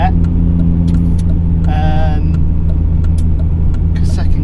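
A car with a Japspeed single exit exhaust drones steadily at high revs from inside the cabin, a loud continuous engine note with a brief rising whine partway through.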